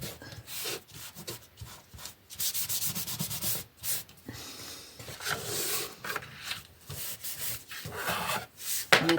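Paper glued onto a scrapbooking card is wiped clean, giving close, soft rubbing and scuffing strokes in irregular bursts, with no one talking.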